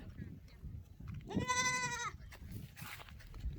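A goat at a farm gives one clear, wavering bleat near the middle, with soft rustling and faint background noise around it and a fainter second call afterward.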